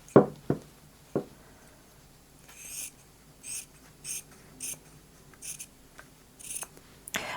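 Scissors cut tiny fabric scraps for crumb quilting, with a few sharp clicks at the start, then a run of short rhythmic snips, each a quick rasping cut, close and clear with no talk.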